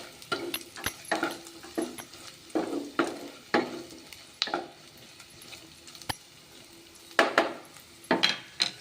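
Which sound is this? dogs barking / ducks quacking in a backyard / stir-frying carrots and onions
stir-frying carrots and onions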